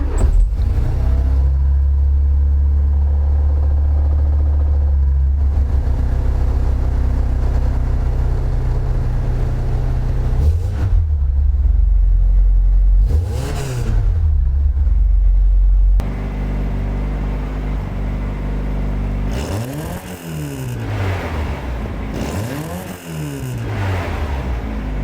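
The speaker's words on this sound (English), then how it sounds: "And here's the car turning on." A VW Golf Mk1 engine fitted with a universal choke cable cranks, catches and idles close by, with a deep steady rumble, then revs up and down several times near the end.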